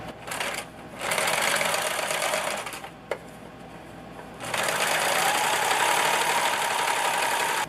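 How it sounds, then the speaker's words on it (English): Sewing machine top stitching the ends of a fabric pattern holder, close and steady in two runs of whirring motor hum, separated by a pause with a single sharp tick. "now I got to get my sewing machine because now I want to sew this"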